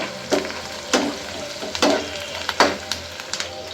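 Brinjal curry fries in a kadai, with a steady sizzle broken by several sharp clinks and scrapes as a spoon stirs it. Nobody speaks.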